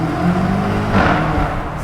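A 2018 BMW M5 with its stock exhaust on a downshift, a steady loud engine drone heard from close by that swells briefly midway, with no talk over it.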